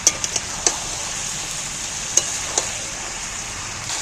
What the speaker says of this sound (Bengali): এইবার আমি কষাতে থাকবো এখন